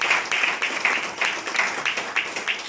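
A crowd at a community autism awareness event claps steadily throughout, a lively and fairly close wash of many hands with no talk over it.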